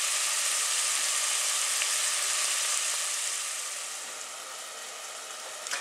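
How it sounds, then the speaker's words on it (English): Courgette and raisin chutney fries in a pan on the stove with a steady, close sizzle that fades slightly toward the end. "There is actually frying going on there."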